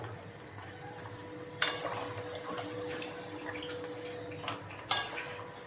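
Water poured into a cooking pot of rice for a Bengali muri ghonto dish, a faint steady trickle and splash in a kitchen with a couple of sharp clinks of the pot.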